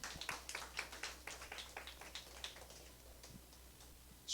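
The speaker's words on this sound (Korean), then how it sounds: "여러분 박수." Light, quick clapping from a church youth congregation at a birthday celebration during a service, a rapid patter of hands that fades toward the end, with no one talking.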